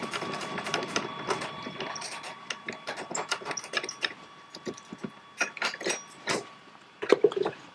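Metal bolt and nut being worked loose from a car's steering wheel and steering boss: quick clicking, ratcheting and rattling taps in irregular bursts, close up, with a faint steady tone behind and no talking.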